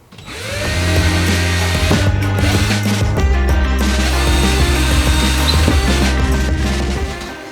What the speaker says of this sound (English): I'm going to be putting a couple of pilot holes in